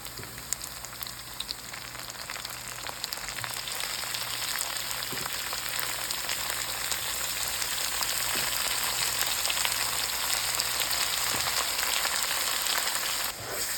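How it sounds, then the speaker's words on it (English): Minced beef frying with methi (fenugreek) leaves in a pan after onions have browned golden: a steady, dense close sizzle that holds evenly throughout, with a few soft clicks and no talking. "Now we can add the minced meat to it."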